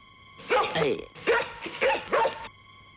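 A person imitates a dog barking: four short, voiced woof-like yelps in quick succession, close and fairly loud.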